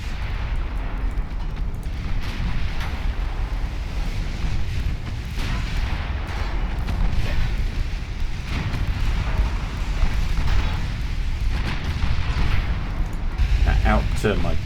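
Naval gunfire and explosions in the warship game Ultimate Admiral Dreadnoughts roll on continuously as dense, rumbling booms and bursts, with someone talking throughout over the battle.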